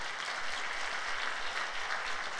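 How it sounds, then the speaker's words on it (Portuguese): A church congregation at a Sunday service applauds, a steady even wash of many hands clapping at moderate volume, continuous for the whole stretch with no voices. "Vamos dar um aplauso a Jesus por isso?"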